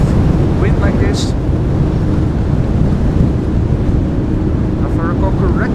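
Strong wind roars steadily across the microphone at Amsterdam Schiphol Airport during Storm Lilian, a dense rumbling gust noise throughout, with a voice talking faintly beneath it.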